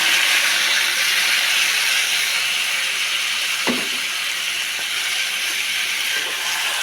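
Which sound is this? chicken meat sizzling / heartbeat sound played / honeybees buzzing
chicken meat sizzling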